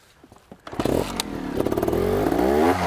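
A trials motorcycle starts moving after some clattering, then its engine rises in a close, loud revving drone with a steady pulsing note, with occasional knocks and scrapes from riding over obstacles.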